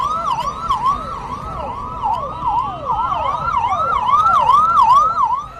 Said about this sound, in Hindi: केजरीवाल को जेल ले जाती पुलिसिया गाड़ी के हूटर की आवाज